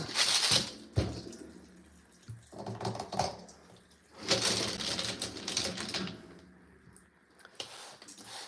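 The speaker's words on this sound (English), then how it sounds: "So let's turn on water, start washing." Tap water runs over tumbled chert stones, with clattering, clicking rock-on-rock knocks in bursts and a hissing wash of water, close and fairly quiet.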